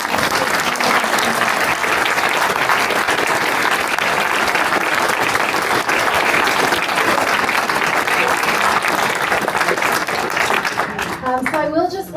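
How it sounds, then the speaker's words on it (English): A room of audience members at a Democratic club candidates and immigration forum applauds the panelists with sustained, dense clapping that stays loud and steady throughout, thinning only in the last moments. "give them a very big round of applause"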